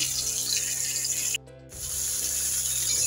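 Sliced ridge gourd sizzles steadily over a medium flame in oil with nigella seeds, bay leaf and cardamom while it is stirred, the hiss cutting out briefly before resuming.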